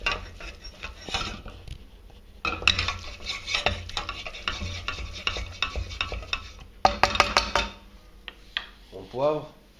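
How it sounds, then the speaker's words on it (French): Bolognese sauce stirred in a pan after salting, a spoon scraping and clinking against the metal in bursts, with a soft sizzle underneath and brief voice sounds near the end. "On remue."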